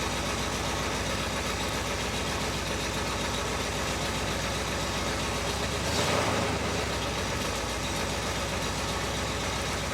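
A 1957 GMC truck engine idles steadily while warming up, a constant low rumble with a brief swelling surge about midway before settling back to an even idle.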